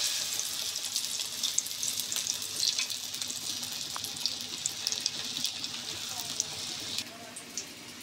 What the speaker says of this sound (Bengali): দেখুন আমার চুলায় তেল গরম হয়ে গেছে, আমি এখন তেলে ছেড়ে দিব।